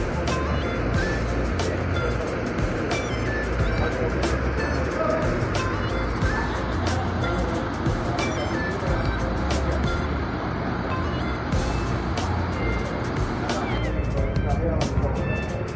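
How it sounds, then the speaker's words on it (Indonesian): Buses idle and pull through Tamanan bus terminal in Kediri, giving a steady, loud diesel rumble with traffic and engine noise throughout and voices talking over it. "Dan ada bus Bagong ini datang pukul 10 lebih 12 menit"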